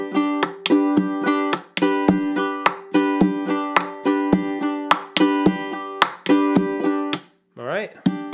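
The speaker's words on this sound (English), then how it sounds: "Now I want to share this other rhythm with you. It involves tapping on the bridge" Ukulele strummed in a steady reggae-style rhythm, with sharp percussive taps on the bridge between strums and a brief bending, sliding sound near the end.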